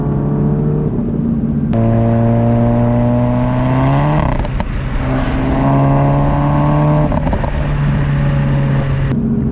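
A Volkswagen Mk7 GTI engine with a downpipe revs up and holds a steady exhaust drone, with a throaty rise around the middle before settling back to a constant, close hum.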